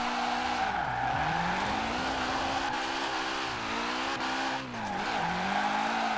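Nissan S13 drifting in Forza Horizon 4: a continuous loud engine drone with rising and falling pitch sweeps as the car slides, under a steady screech of tire squeal, with no talk.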